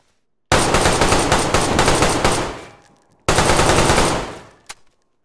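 Two long bursts of rapid automatic gunfire in a video game, loud and close, each trailing off, with a final single sharp shot; no voices.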